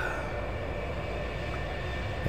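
A light aircraft engine roars at full throttle during the takeoff run, a loud, steady drone with wind rush, continuous and close with no talking.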